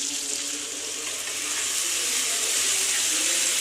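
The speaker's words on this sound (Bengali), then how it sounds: "চিংড়ি মাখানোর যে জলটা ছিল, সেই জলটা আমি এর সঙ্গে দিয়ে দেব।" Prawn marinade water poured into a hot pan of fried ingredients while making chilli prawns, producing a steady, loud rushing hiss of liquid hitting the oil that continues throughout, heard close with no talking.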